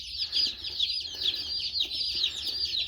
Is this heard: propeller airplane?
no